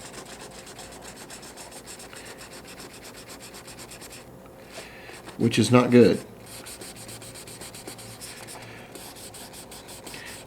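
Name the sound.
wet sanding clear coat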